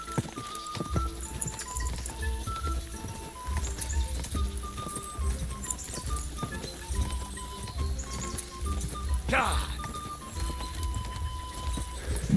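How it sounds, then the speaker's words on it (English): A horse gallops steadily in the medieval video game Kingdom Come: Deliverance, its rhythmic hoofbeats under game music with a brief whinny-like sweep near the end, fairly close and clear. "Bendito caballo, no puede ir más lento"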